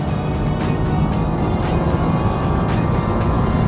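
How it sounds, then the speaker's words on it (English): Nissan Juke-R or GT-R on a race track, engine droning steadily as the car builds speed through a corner, a continuous loud drone with no talk. "back on the throttle, just trying to build the speed through the corner"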